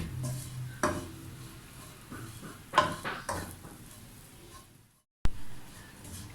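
Bread and coconut roasting in a pan over low heat, with soft scraping and stirring, a few sharp clinks of a utensil against the pan, and a brief cut to silence before one last clatter.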